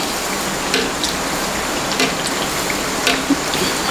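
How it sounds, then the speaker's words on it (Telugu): Heavy monsoon rain falling steadily outside during a spell of continuous drizzle, a constant close wash of patter with a few sharper drop hits, heard alone with no talk. "జోరున వాన పడుతుంది అన్నమాట."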